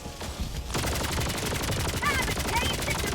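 Rapid automatic gunfire from the video game Helldivers 2 fires in a dense, loud, continuous stream after a brief quieter opening, with shots and impacts mixed in and faint game voice sounds underneath.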